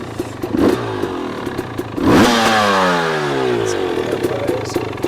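Motorcycle fitted with a Rekluse auto-clutch, idling and then blipped into a sharp rev that slowly falls back. Clattering mechanical noise runs underneath, close and fairly loud.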